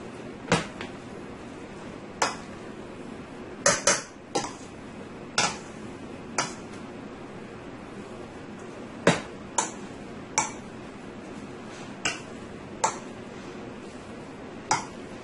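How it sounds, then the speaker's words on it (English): Potatoes and onion are mashed in a pot with sharp, irregular knocks of the masher against the pot, about a dozen distinct taps spaced a second or so apart over a soft background. "I am going to go ahead and start mashing my potatoes"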